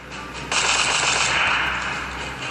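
Rapid machine-gun fire in a World War II video game, a sudden loud burst starting abruptly and continuing as dense automatic shots.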